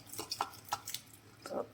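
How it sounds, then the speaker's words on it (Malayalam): Cooked rice porridge poured over coconut in a kitchen, a few soft wet drips and squelches spaced across a couple of seconds, faint and close. "നമ്മൾ വേവിച്ച് വെച്ചിട്ടുള്ള ഈ കഞ്ഞിയെ ഒഴിച്ചു കൊടുക്കാം"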